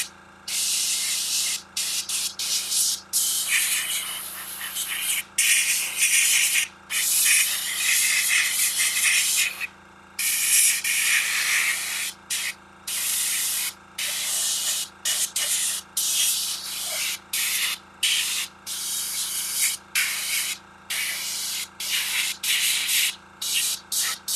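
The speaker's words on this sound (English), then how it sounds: "Now, as always, when you're done airbrushing, you clean your airbrush." An airbrush sprays yellow base paint onto miniature model vehicles in repeated hissing bursts, close and loud, separated by short pauses.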